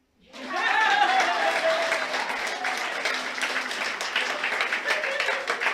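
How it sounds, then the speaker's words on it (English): An audience at a talk breaks into applause that swells quickly and then holds steady, many hands clapping while a voice briefly calls out over the start. "Now you can clap."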